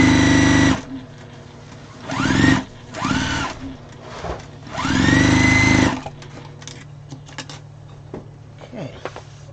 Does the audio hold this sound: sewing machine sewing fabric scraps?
yes